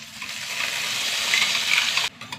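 Ground pepper and tomato paste sizzle steadily in a hot frying pan after ginger and garlic have browned, a continuous bright hiss with light stirring scrapes, cutting off abruptly near the end to a few quieter crackles.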